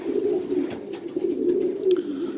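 Pigeons coo in soft, repeated rolling calls, close by, with a few faint clicks and rustles in the background.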